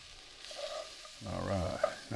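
Garlic hits a hot gumbo pot with green onion already in it, and a soft sizzle rises partway through and holds steady under quiet room noise.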